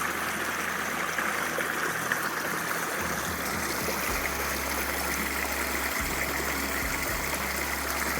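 A creek beside a campsite near Hauser Lake flows in a steady, close rushing wash, with a low engine-like hum entering partway through beneath the water noise.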